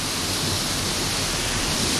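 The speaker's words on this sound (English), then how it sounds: "Look at the way the water is gushing" Water gushes loudly from a small roadside brook in Kerala past small dam-like columns, a dense continuous roar close by with no pauses.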